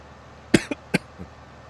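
A few abrupt, strained coughs in quick succession after choking on a cough drop, the first loudest, then a weaker final hack, close by in an otherwise quiet room.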